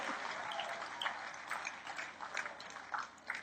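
An audience at a church sermon claps hands in a faint, distant, steady patter with a few sharper claps scattered through.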